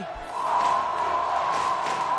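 Crowd cheering and applause at an Olympic equestrian event, a broad sustained roar holding steady at moderate loudness throughout, with a brief low thump near the start.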